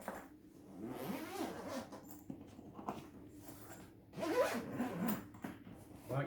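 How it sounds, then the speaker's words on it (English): A zipper runs along the case of a DJI Mavic Air 2 drone landing pad in several quick, close, fairly quiet pulls separated by brief pauses. "zip it back up. Like I say, that's in there, no problem at all. And I'll just zip straight up."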